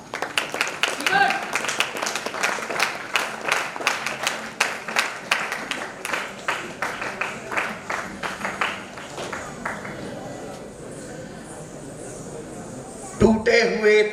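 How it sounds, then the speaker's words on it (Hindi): An audience claps in welcome at a Republic Day festival valedictory session, dense rhythmic applause that builds strongly, then thins and fades out toward the end. "आइए जोरदार तालियों से उनका स्वागत करें।"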